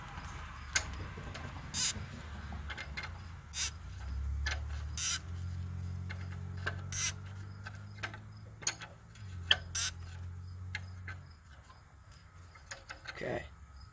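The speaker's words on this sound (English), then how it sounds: "We're now working on the fuel filter hat, slowly wrenching away." A wrench slowly tightens the fuel filter housing on a 7.3L IDI diesel engine, giving repeated sharp ratcheting clicks and metallic taps spread unevenly over a low, steady background hum at close range.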